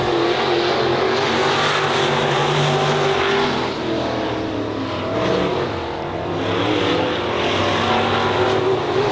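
IMCA Northern Sport Modified race cars roaring around an oval dirt track at Honor Speedway at the finish of a 20-lap feature, engines loud and close, rising and fading as cars pass, with no talk.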